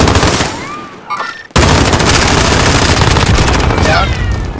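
Loud, sustained gunfire in Call of Duty: Modern Warfare, a rapid burst of shots cutting off briefly before a dense, continuous stream of automatic fire and blasts resumes and runs to the end.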